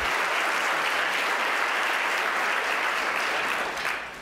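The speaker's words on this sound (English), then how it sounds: "let's have a nice round of applause for all of tonight's award winners sitting up on stage here" A large audience at the 2013 PEN American Center literary award ceremony applauds the award winners on stage, with dense, steady clapping that runs throughout and fades slightly at the end.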